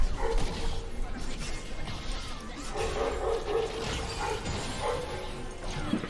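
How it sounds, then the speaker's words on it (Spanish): Dogs bark in the background amid dense, noisy game and room sound, the yaps fairly faint and scattered rather than prominent. "Y se pone a ladrar los perros ahora tú"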